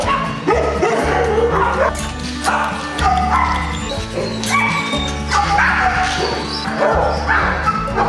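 Several dogs at the Humboldt County Animal Shelter barking, yipping and whimpering close by, with loud overlapping barks in uneven bursts throughout.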